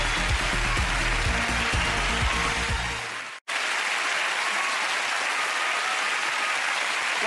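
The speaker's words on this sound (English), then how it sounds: "Give them a massive round of applause." Studio audience applause on the Family Fortunes game show, loud and dense for about three seconds with music underneath, then a sharp cut to steady, softer clapping that continues to the end.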